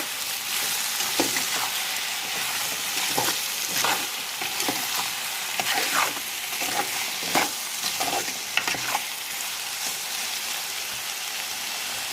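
Drumstick, tomato and onion curry sizzles in a pan while a spoon stirs and scrapes through it, giving a steady frying hiss broken by repeated close scraping strokes, with no talk.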